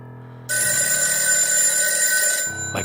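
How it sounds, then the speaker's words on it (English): A telephone bell rings in one bright, sustained electronic trill lasting about two seconds, loud and close, with a quiet low hum before and after. "my phone rings and I scream"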